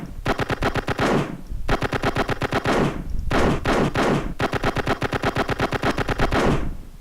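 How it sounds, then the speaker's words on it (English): Bursts of rapid machine-gun fire from a gun sound effect in a Unity game, four loud sustained volleys of evenly spaced shots separated by short pauses. "We get a machine gun-like effect."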